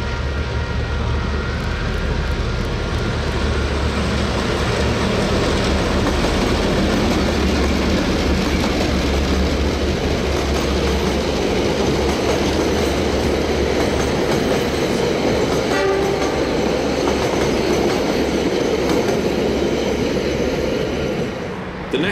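A Steam Inc tour train runs from Christchurch railway station to the Waltham car yard in New Zealand, making a loud, continuous, close rumble with a steady rolling roar throughout.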